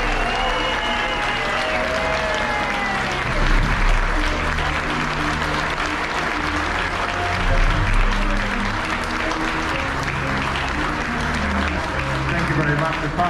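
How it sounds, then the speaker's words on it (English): A large audience gives a sustained round of applause for retiring Captain John Scott at his farewell. Dense clapping holds at a steady level throughout, with crowd voices and cheers mixed in. "join me in one final big round of applause for our Captain John Scott"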